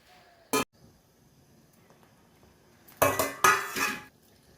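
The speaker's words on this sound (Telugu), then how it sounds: "మూత పెట్టుకోవాలి." A lid goes onto a pot of sugar-sweetened porridge cooking on the stove: one sharp metallic clink, a pause, then a cluster of rattling clanks as it settles, close by in a quiet kitchen.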